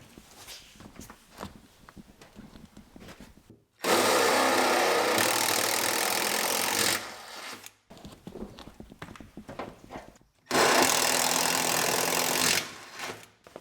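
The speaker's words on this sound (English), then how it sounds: "I'll grab a drill, and we'll punch those holes out large enough" Two loud bursts of a power drill boring holes through metal for 3/8 bolts on an 1989 Buick LeSabre, running for a few seconds each, separated by quieter stretches of handling and shuffling noise.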